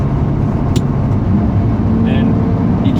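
A 1999 Lamborghini Diablo's V12 engine pulls loud and close from inside the car, a dense, continuous roar with a voice talking over it.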